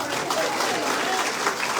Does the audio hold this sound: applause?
yes